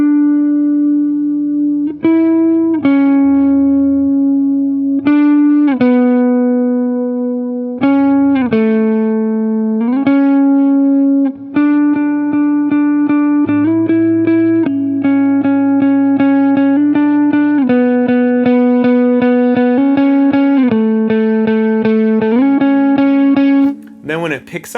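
A slow electric guitar melody from the Hillsong song "In God We Trust", played with the delay switched off: single sustained notes move one after another in a steady, unhurried line, loud and close with no talking.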